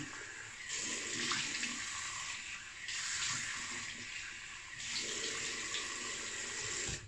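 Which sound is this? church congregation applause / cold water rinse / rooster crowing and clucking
cold water rinse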